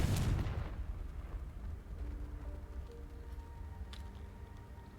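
A Confringo fire spell from Hogwarts Legacy going off as a heavy booming explosion at the start, then a low rumbling tail that fades into quieter game ambience with faint tones and a small later pop.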